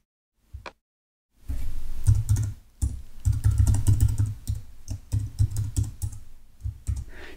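Login credentials being typed on a computer keyboard: after a single early tap, a rapid run of close, crisp key clicks continues in uneven bursts with brief pauses.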